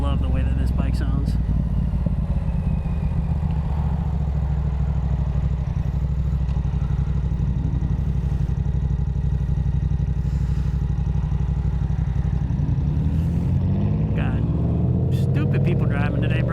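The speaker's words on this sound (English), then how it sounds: "That's that Yoshimura R77 you hear singing to you." A motorcycle fitted with a Yoshimura R77 straight-pipe exhaust and muffler drones steadily while riding in traffic, its engine note rising near the end under nearly continuous talk from the rider.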